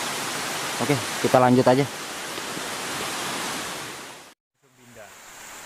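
The Madakaripura waterfall in Probolinggo gives off a steady, broad rushing roar of falling water close by, with someone talking briefly over it before the sound cuts out near the end.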